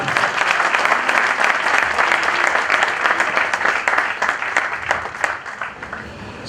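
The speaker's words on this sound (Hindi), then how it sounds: "जोरदार तालियां" A conference audience at a Christian leadership gathering breaks into loud, continuous applause, dense clapping holding steady for several seconds before thinning slightly toward the end.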